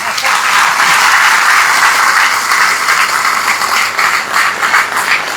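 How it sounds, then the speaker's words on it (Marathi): Audience at a Kolhapur speech event breaking into loud, dense applause, many hands clapping continuously and close for several seconds without pause. "त्या खऱ्या टाळ्या माझ्यासाठी येत आहेत."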